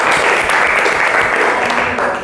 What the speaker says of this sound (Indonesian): Tepuk tangan buat Alvin.